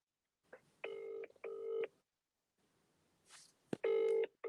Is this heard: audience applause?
no